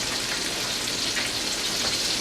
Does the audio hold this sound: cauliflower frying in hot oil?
yes